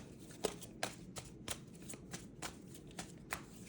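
Tarot cards shuffled and drawn by hand, a close run of quick papery riffles and soft slaps at irregular intervals, with no talk.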